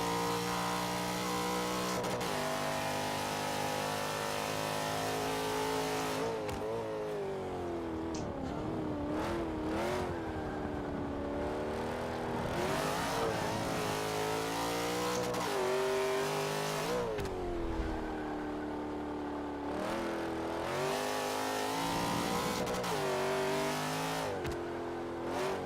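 A race car engine in a racing video game revs and shifts steadily through most of the run, loud and continuous, with pitch rising and falling through gear changes and a brief tire squeal.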